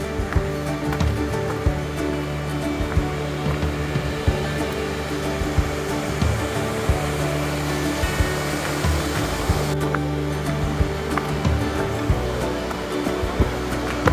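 A waterfall heard beside a forest hiking trail as a steady, dense roar of rushing water, loud and continuous with no voices.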